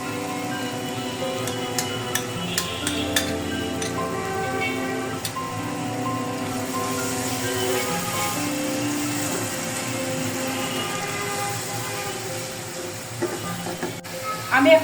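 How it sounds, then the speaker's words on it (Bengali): Whipped sour yogurt goes into a pan of frying prawn polao, making a steady close sizzle with a few stirring clicks and scrapes that swells louder near the end. "এখন আমি দিয়ে দিব ফেটানো টক দই।"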